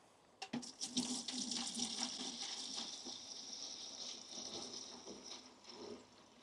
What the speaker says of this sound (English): let's pour the fluid into this watering can